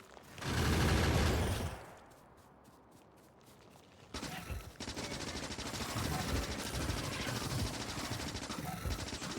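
Gunfire aimed at bugs in Factorio, with a loud, rapid burst near the start, then a few sharp regular shots, then a steady, quieter stream of automatic fire until the end.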